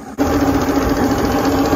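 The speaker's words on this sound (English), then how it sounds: "I've got the engine in the water and warmed up." A Mercury Black Max 135 outboard engine idles in the water after warming up, a loud, steady, buzzing rumble that cuts in abruptly after a brief quiet moment and holds an even, close-up drone.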